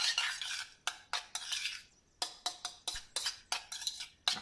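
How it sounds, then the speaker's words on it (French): A spoon works through a bowl of exotic fruits coated in glaze for a tart, giving repeated close scraping and clinking strokes in an uneven rhythm with brief pauses. "on mélange bien les fruits"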